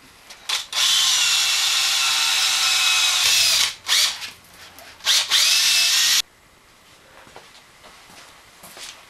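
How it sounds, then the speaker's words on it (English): Power drill boring bolt holes for a camera stabilizer, running in two long loud bursts with a short pause and quick trigger blips between, then stopping, leaving a quiet room. "the holes are drilled, and now we're going to put the bolts in"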